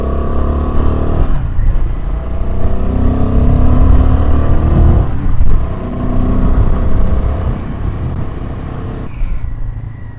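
Royal Enfield Himalayan 450 motorcycle pulling up a steep hill in second gear, a loud, close engine drone that rises and falls through several throttle surges, with brief dips between pulls and no talk.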